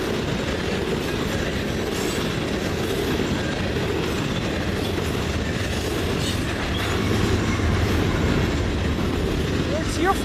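A CN freight train rolls past with distributed power locomotives, a loud continuous rumble and wheel clatter filling the whole stretch, with a brief voice over the noise.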